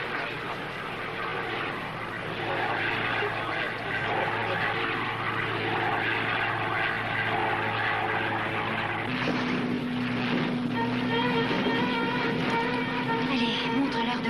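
Propeller airplane flying, a continuous droning engine with a steady buzz that shifts to a higher, busier tone partway through, loud and sustained without speech.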